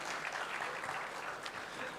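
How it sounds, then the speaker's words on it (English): An audience applauds a speaker's introduction at an AI cloud conference keynote in Indonesia, a steady dense wash of clapping across a large hall. "Give another round of applause for Mr. Sean Yuan."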